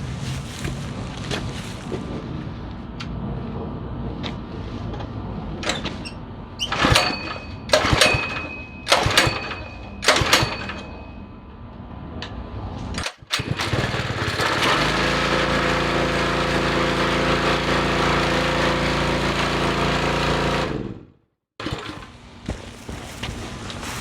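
A 6.5 HP pressure washer engine fitted with a muffler and rubber-stud shock absorber exhaust repair, heard first through several sharp knocks and bangs while being handled, then starting up into a loud, steady, continuous drone that runs before cutting out abruptly.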